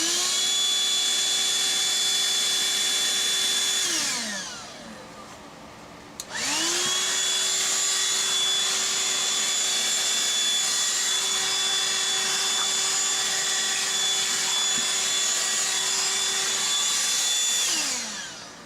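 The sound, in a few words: Black & Decker Dustbuster CHV1410L handheld vacuum running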